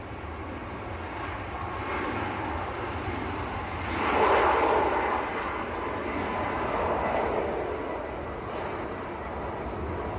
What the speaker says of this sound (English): That was Ryanair to Krakow, just getting airborne.